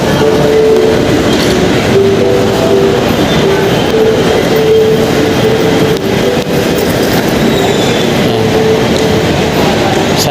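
A metro train rumbles steadily at close range at MRT 3 North Avenue Station, a continuous loud roar of wheels and motors with faint tonal whines, no talking.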